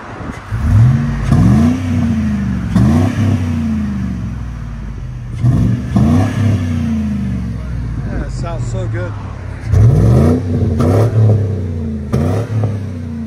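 A 2005 Chevy Tahoe with a Flowmaster Flow FX exhaust and a cold air intake revs repeatedly in loud rising bursts, its deep exhaust note swelling and falling close by, with a brief spoken moment in between.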